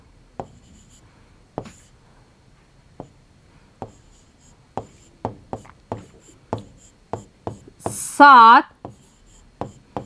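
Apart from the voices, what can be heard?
writing the answer by hand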